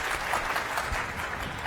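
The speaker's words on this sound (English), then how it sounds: "Big round of applause." A conference audience at an autism conference session gives a round of applause, a steady, even clatter of many hands clapping at moderate volume for under two seconds.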